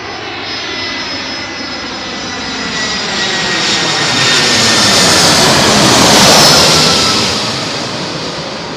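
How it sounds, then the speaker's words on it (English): An airliner at London Heathrow aborts its landing on runway 27L during a thunderstorm and goes around, its jet engines roaring loudly with a steady, rising-and-falling whine that swells to a peak as it passes close, then eases. "Rejected landing, sorry."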